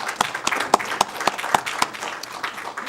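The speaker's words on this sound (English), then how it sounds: "let's give them a big round of applause" Applause from the audience at a city council meeting, a steady crowd patter with a few sharp individual claps standing out, moderately loud and close, lasting the full three seconds with no talking over it.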